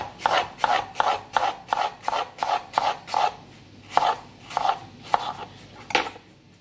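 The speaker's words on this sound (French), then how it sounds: "Coupez les pommes." A knife cutting halved, cored cooked apples into thin, even slices: a regular series of about a dozen short scraping strokes against a board, close and clear, slowing slightly toward the end, with no voices.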